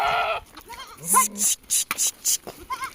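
Kathiawadi goats packed in a transport vehicle bleat repeatedly in short, close calls, with people talking alongside.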